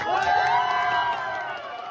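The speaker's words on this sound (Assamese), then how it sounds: "জোৰদাৰ তালি দিয়ক" A crowd at a motorcycle riders' meet-up in Bongaigaon, Assam cheers and whoops loudly, a burst of many excited voices that gradually eases off over a couple of seconds.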